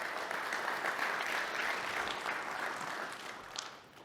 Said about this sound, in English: Round of applause to you all first.